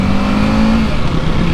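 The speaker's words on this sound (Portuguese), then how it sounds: "você sente realmente a potência da moto" A Kawasaki Ninja 650 motorcycle pulls hard under acceleration, its engine loud and close with a rising drone and steady wind noise through a short burst.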